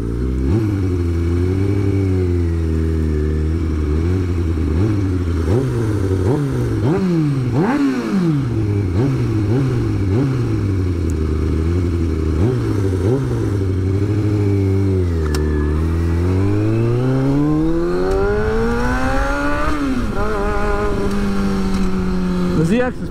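Kawasaki ZX6R Ninja 636 sport bike ridden through downtown streets, its loud exhaust revving up and down through repeated gear changes, rising and falling in pitch close to the rider for the whole stretch.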